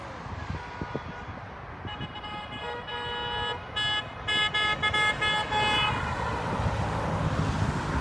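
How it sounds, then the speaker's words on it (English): Car horns honk repeatedly in short bursts and longer blasts over steady street traffic noise, as supporters drive by at a political rally; no talking. "So all these people that are honking"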